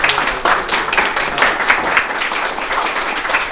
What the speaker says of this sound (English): Let's give it a big round of applause to